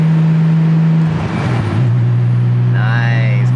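A Nissan R32 Skyline GTST with an RB engine idles while warming up, a steady low exhaust drone with a brief throttle blip and a rising whistle-like turbo spool near the end.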